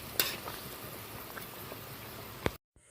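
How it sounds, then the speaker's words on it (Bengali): A pot of spicy Bhola sea fish curry bubbles steadily on the stove, a soft continuous simmering with faint pops and one sharp tap near the end before it cuts to silence. "এই দেখুন তরকারিটা ভালোভাবে ফুটে গেছে।"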